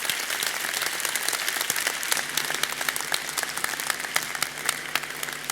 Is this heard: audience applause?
yes